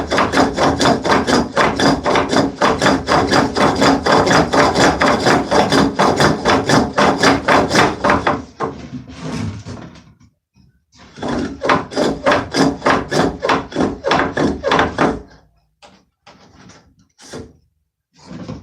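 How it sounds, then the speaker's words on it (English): A rasp shapes a wooden workpiece turning on a spring pole lathe. It gives loud, rapid rhythmic scraping strokes in long bursts with brief pauses between, close up. "Of course, that rasp works,"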